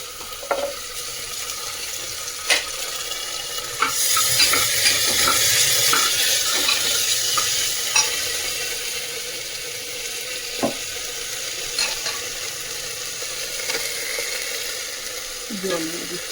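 Ginger paste fries in hot oil for a dal fry, giving a steady sizzle that swells for a few seconds and then settles, with occasional sharp clicks of a spoon stirring the pan.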